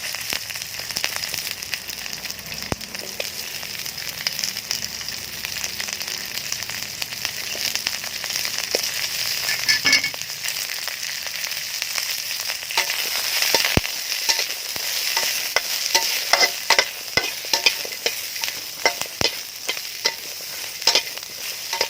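Chili and shallots roasting in a hot pan give a steady, close sizzle and crackle with frequent sharp pops and scraping stirs growing busier toward the end.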